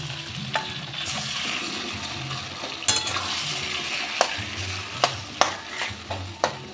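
Taro leaves tossed into chickpeas already frying in a pan sizzle steadily while a spoon stirs with a series of sharp scrapes and clinks, close up and moderately loud.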